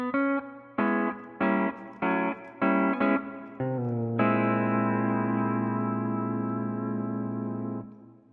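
A C6 steel guitar plays a run of short, separate chords, then rings out on one long sustained augmented chord with a tritone bass substitution that slowly fades.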